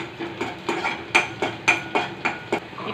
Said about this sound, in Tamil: பூண்டு, இஞ்சி நீட்டாக கட் பண்ணது நல்ல கிளறி கொடுத்துருங்க